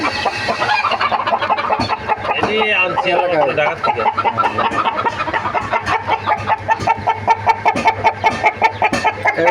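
Deshi chickens on a poultry farm clucking busily and continuously, close and loud, with rhythmic cackles growing denser toward the end while people talk nearby.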